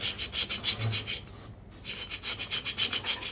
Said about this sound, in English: I'm probably going to scrape some paint off the surface area here a little bit.